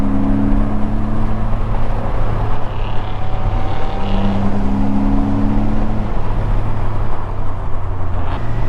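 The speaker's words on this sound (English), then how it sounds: "This dude on this adventure bike is flying right now." An adventure motorcycle speeds past on a famous road, heard from inside a fast-moving Porsche as a faint engine whine rising and falling over loud, constant road and wind roar.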